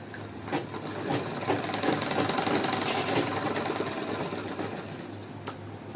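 Electric sewing machine stitching a Patiala salwar along the fabric below the waistband, a rapid steady mechanical chatter running continuously at moderate volume with a few sharp clicks near the end.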